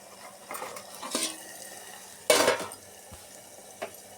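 A lid set onto a pot of capsicum coconut curry, with clattering metal knocks and scrapes, one louder clank standing out, and no talk.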